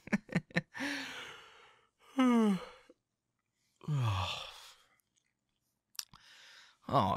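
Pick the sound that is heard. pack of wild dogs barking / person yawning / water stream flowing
person yawning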